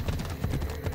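Horse hooves clop in a quick galloping rhythm in the video game Assassin's Creed Odyssey, a brief, fairly faint burst of in-game riding sound.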